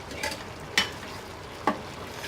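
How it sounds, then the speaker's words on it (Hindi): Green chilies stirred into a frying chicken karahi with tomato, a soft continuous sizzle broken by two sharp scrapes of a spoon against the pan. "अब मैं इसमें ये हरी मिर्च भी डाल रही हूँ।"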